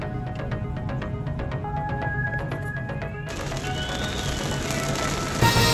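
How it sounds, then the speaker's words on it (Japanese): Sudden heavy rain in Okinawa near Futenma base, a steady hiss of rain pounding surfaces that thickens and grows louder midway, with faint tonal sounds in the background. "急遽大雨。"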